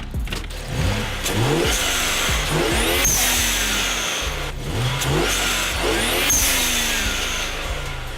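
BMW 335i with a VRSF charge pipe and HKS blow-off valve, revved twice in a row: each loud climb ends in a sharp whooshing valve release as the engine drops back to a throbbing idle.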